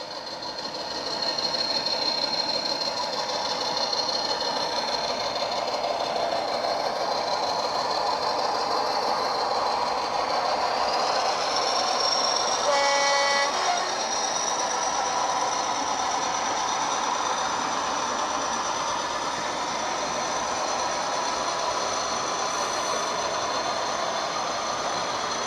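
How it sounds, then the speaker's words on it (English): Model Class 40 diesel locomotives running on a model railway layout with sound decoders, giving a steady droning engine rumble and a whine for the full stretch, with a faint tone rising briefly midway, no talking. "so I've got a couple of Class 40s out on the layout running now"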